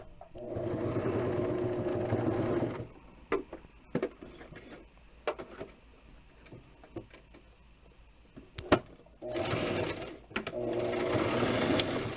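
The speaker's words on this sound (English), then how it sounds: "So I'm going to sew from the top, right in that area." A sewing machine runs close up in a long burst, then pauses with scattered clicks and handling noises before stitching again.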